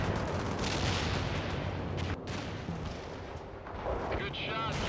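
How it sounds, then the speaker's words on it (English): Artillery in the World in Conflict strategy game pounds continuously as rumbling barrages and bursts of gunfire, with voices faintly in the background. "Hopefully this artillery clears up a bit."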